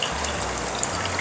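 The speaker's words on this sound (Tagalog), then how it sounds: "dagdagan natin ng room temperature na tubig" Room-temperature water poured into dissolved coffee while making tiramisu, a short, steady gushing pour heard close up.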